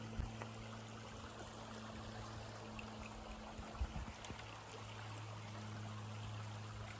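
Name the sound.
small river stream flowing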